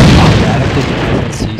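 A grenade goes off in the first-person shooter AVA, a loud, close, deep boom that fills the moment with rumbling noise and fades over a second and a half, while voices shout over it.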